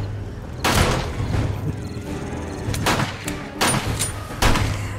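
Pistol shots fired in 7 Days to Die during a blood moon night: several loud, sharp cracks spaced a second or so apart, with quieter game noise between them.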